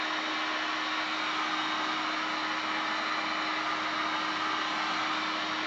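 A heat gun heats orthopedic cast walker material, blowing a steady, loud, close whooshing roar that holds without change throughout.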